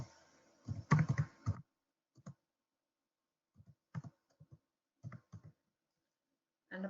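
A computer keyboard clicks as a username is typed, with a quick burst of keystrokes followed by sparse, isolated taps separated by silence, close and fairly quiet.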